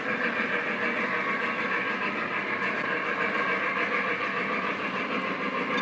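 A Conrail model train locomotive backs out in a steady, continuous mechanical whir with a faint rhythmic rail clatter and no talk over it.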